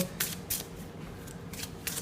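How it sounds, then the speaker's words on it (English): Tarot cards shuffled close up in short riffling bursts, several quick crisp flurries separated by brief pauses, with no talking. "let's give the cards a good shuffle"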